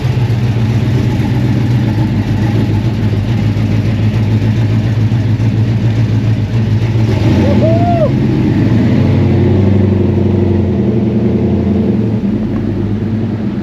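A Chevrolet Camaro SS with headers and an intake, heard from inside while driving: a loud, steady engine rumble with a constant low drone and a brief squeak partway through.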